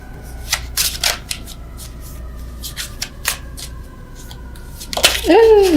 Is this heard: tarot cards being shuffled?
yes